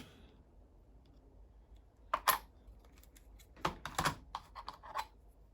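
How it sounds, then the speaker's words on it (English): A Stanley blade scoring around a Ninco Mercedes CLK GTR slot car body, heard as short, dry scratching strokes and clicks in two small bursts against a quiet background. "I'm going to run a Stanley blade just around that, just to score it and mark the position where I need to cut the top off"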